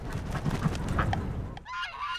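Geese, including migratory geese, honk loudly at a park in a brief flurry of overlapping calls, then a single clearer honk follows.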